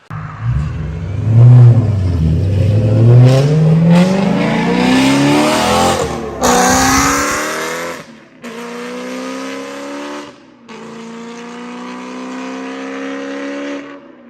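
A high-revving BMW E92 M3 track car engine climbs sharply through its gears, then drops and revs again in loud bursts with brief pauses between.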